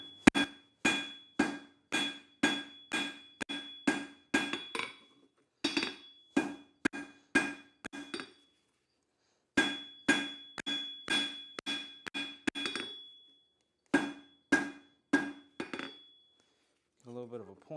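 Hammer blows on a hot piece of coil spring being thinned down at a forge anvil, ringing metallic strikes in quick rhythmic runs of several hits separated by short pauses.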